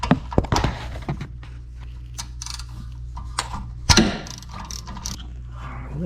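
Ratchet and extension working on front brake parts of a 2009 VW Jetta, with sharp metallic clicks and clunks at the start and a louder clank near the middle over a low steady hum, close up and without talk.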